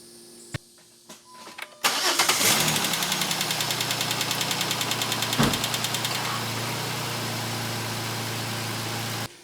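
A 2008 Jeep Wrangler engine cranks briefly after a short pause of small clicks and handling noises, catches and roars up, then settles into a steady close idle with a rapid ticking pulse.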